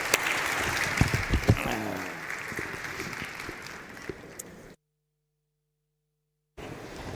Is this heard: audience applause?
yes